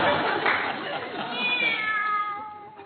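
A cat meows in an old-time radio drama, a drawn-out, wavering mewing cry rising in the second half over a busy, noisy background.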